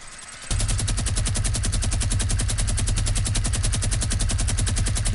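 Rapid automatic gunfire in a video game, a steady stream of evenly spaced loud shots that starts abruptly after a brief quiet moment and runs without pause to the end.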